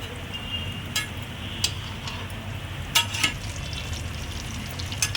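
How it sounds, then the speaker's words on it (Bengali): Chicken paneer combo fry deep-frying in hot oil, with a continuous soft sizzle running throughout and a few brief clinks of a utensil against the pan. "এটা প্রায় ভাজা হয়ে গেছে, চিকেন পনির কম্বো ফ্রাই।"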